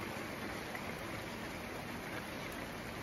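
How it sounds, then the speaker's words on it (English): Heavy overnight rain falls steadily outside an off-grid home in winter, a dense, even hiss with no breaks, heard at a moderate distance and without voices. "As you can hear, it's quite heavy. It's been raining constantly all night long."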